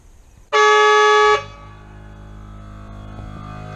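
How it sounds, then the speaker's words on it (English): A truck's aftermarket air horn blasts once, loud and close, for under a second. Its strong, steady harmonic tone cuts off sharply, and a lower mechanical hum follows, likely the compressor starting to refill. "And then here is the air horn."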